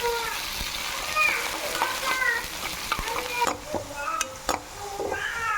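Onions with mustard seeds, fenugreek, cumin and green chilli sizzle in groundnut oil in a pan. A steady frying crackle runs under spoons scraping and stirring, with occasional clinks and a voice talking at times.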